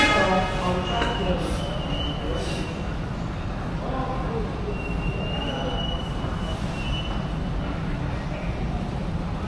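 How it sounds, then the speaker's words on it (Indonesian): An airport Skytrain to Terminal 1 rolls into the station on track A, a steady close rumble of wheels on rail with faint squeals, heavy and continuous throughout, with soft voices under the noise. "The Skytrain to Terminal 1 has just arrived on track A."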